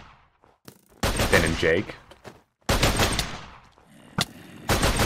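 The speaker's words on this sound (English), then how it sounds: "Thank you for shooting me!" Gunfire in modded Minecraft comes as rapid, sharp bursts of shots in two or three clusters separated by short gaps, with players talking over and between them.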